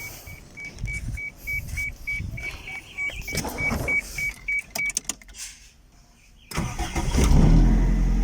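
A car engine cranks and starts after a kill switch is set to the on position, first a whining starter and rattling, then a pause and a loud, steady idle close by.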